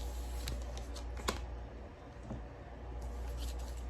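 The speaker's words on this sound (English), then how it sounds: "Allow me a few seconds to shuffle." Tarot cards being shuffled by hand, a soft papery riffling with a few sharper snaps and clicks, close and fairly quiet, with no one talking.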